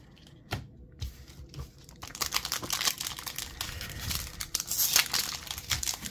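Pokemon TCG Obsidian Flames booster pack foil crinkling and tearing open up close, a few sharp crackles first and then steady dense crumpling and rustling for several seconds.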